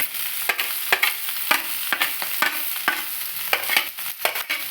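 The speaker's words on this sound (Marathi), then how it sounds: "थोडासा गुलाबी गुलाबी बटाटा आपण ओतून घेऊया" Potatoes frying in a pan and being stirred, a steady close sizzle broken by repeated scraping strokes of the spoon in an uneven rhythm, with no talk.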